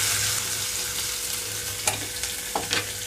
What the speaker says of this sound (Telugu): కట్ చేసి పెట్టిన ఉల్లిపాయలు, పచ్చిమిరపకాయలు ఇందులోకి వేసేస్తున్నాను